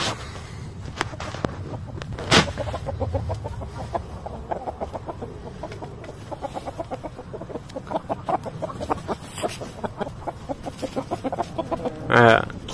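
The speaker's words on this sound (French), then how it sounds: "Notre joli petit coq." A small farm rooster courting a hen among other roosters gives soft, rhythmic clucks close by, with scattered louder squawks and a brief crow-like call near the end, under occasional quiet speech.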